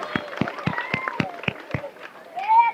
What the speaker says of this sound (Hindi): हाथ उठा के सभी लोग ताली बजा देंगे।